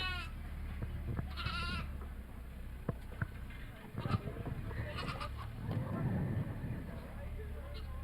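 Goats bleat in short, faint calls at a goat show, scattered over a background of crowd murmur and talking people.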